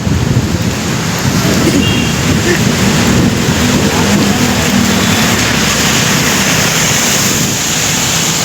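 Heavy rain pouring down during a ride, a dense continuous roar of water with low rumbling underneath, loud and steady throughout with no break.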